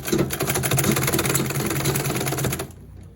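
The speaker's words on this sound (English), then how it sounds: "Now I'm just sewing the band part." A sewing machine stitches an elastic waistband on cargo pants, running in a fast, steady mechanical chatter close by for nearly the whole stretch before stopping abruptly.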